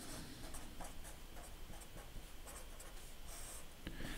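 Pen writing on a sheet of paper for a math lesson, a steady close scratching of strokes with short pauses between them, faint and alone with no voice.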